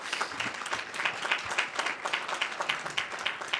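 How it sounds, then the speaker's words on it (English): Audience applause at a Manhattan community board meeting, a steady burst of many hands clapping throughout, fairly close and even in level with no speech over it. "If you just give them a big round of applause."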